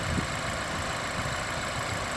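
A BMW 328i's 2-liter four-cylinder engine idling, a steady, close, even hum with a faint rhythmic pulse, heard alone with no talking.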